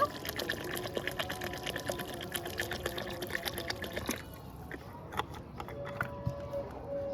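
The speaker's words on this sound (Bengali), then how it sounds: "আর একটু জল দিয়ে দিব।" Water pours into a cooking pot of matar dal, a close splashing, bubbling fill that cuts off midway, followed by light clinks and a faint trickle.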